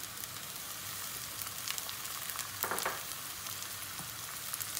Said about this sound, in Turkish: Aynı şekilde biberleri de kavuracağız.